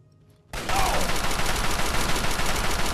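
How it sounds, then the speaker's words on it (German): Sustained rapid gunfire from Fallout 3 bursts in loudly after a brief quiet moment and continues as a dense, unbroken barrage. "So, erstmal schießen wir dich ein wenig an."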